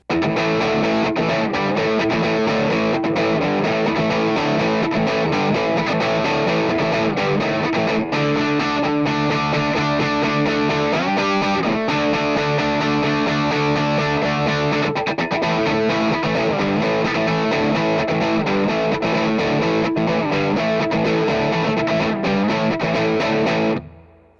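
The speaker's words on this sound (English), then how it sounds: "here's some low gain tones for the JTM 45 side" Electric guitar played through the JTM 45 channel of a 3rd Power Kitchen Sink 6VEL amp at low gain, with sustained, slightly crunchy chords and single notes ringing continuously and loudly for the whole stretch before cutting off at the end.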